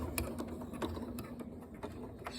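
Janome sewing machine stitching fabric slowly under speed control, a quiet run of rhythmic mechanical ticks and clicks repeating at an even pace.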